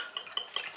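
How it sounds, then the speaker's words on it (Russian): A utensil stirs whisked eggs and milk for an omelette in a bowl, giving a few light scraping clinks in quick succession, close and fairly quiet. "Перемешиваем."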